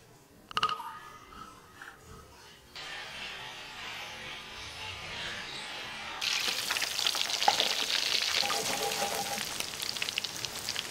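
Avocado oil sizzles and crackles steadily as chicken cutlets deep fry, the hiss growing louder and brighter partway through, with no talking.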